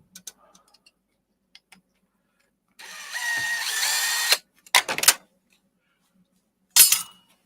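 Power drill unscrewing screws from scrap metal, a short whirring burst of a couple of seconds followed by brief bursts and clicks, close, with quiet handling noises between.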